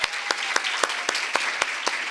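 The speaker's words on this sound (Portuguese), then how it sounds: "Uma salva de palmas." A symposium audience on multiple sclerosis breaks into steady applause, dense broadband clapping with a few sharper, near-rhythmic claps standing out, moderately loud and with no talk.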